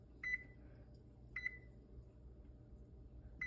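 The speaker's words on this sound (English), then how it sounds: "I'm going to set my timer again for 30 minutes." An oven timer gives short electronic beeps at intervals, a pair of quick chirps repeating about every second and a half, fairly faint against a low background hum.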